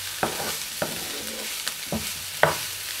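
Fish fillet and shrimp with ginger and spring onion fry with a constant hiss in a pan, and four or five distinct knocks and scrapes sound as they are stirred.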